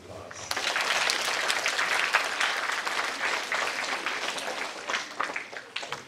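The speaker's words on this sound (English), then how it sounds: "So I think that you need to give them another round of applause." Sustained applause from an audience at an ITF taekwondo championship in Ontario, a dense steady wash of clapping hands lasting several seconds with no clear talk over it.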